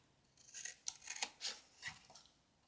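Scissors snip through paper in a handful of short, crisp cuts during a stamping and card-making session, the blades closing close to the mic in an uneven rhythm with no talking.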